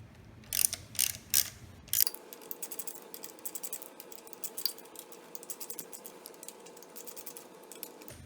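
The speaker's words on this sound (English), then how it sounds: "to adjust the cam timing, loosen up your 6 variator bolts" A wrench loosening the variator bolts on a Lamborghini Murcielago engine produces quiet, rapid ratcheting clicks. A few louder clacks come first, then a steady run of faint ticking continues with a low hum underneath.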